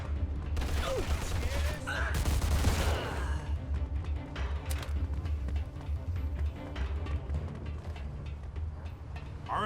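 A gunfight in the crime action game Mafia 2, with sharp bursts of gunfire and metallic clatter early on, then a steady rattle of rapid shots and mechanical clicks over a low rumbling background, a voice briefly speaking.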